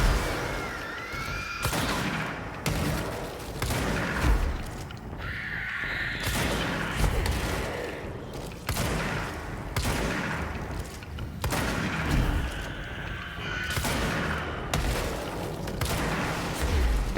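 Bursts of gunfire and booming explosions from the video game Control go off repeatedly, loud and dense, with little pause between the blasts.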